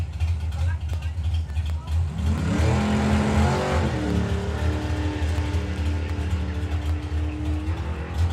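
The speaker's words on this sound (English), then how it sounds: "Listen to the length of that throttle stop." Drag racing car launching on a throttle stop run at an FIA/FIM main event drag strip, a loud engine roar rising sharply then holding a long, steady, wavering drone; an announcer talks over it.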